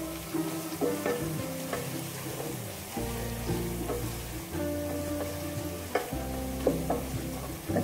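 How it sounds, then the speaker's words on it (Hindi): Spices, garlic and garam masala being fried in a pan, with a low sizzle and scattered stirring scrapes under a steady musical background, close and fairly quiet. "इसको थोड़ा सा हम भूनेंगे"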